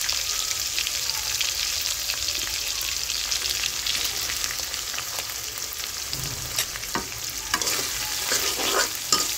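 Dried fish and a little onion sizzle in a pan alongside pumpkin, a dense continuous hiss that stays close, with scraping stirs growing busier toward the end.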